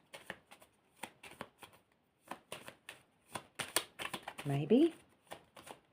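Tarot cards being shuffled and handled, with soft papery riffles and flicks scattered between bursts of nearby talking, plus a brief louder shuffle near the end.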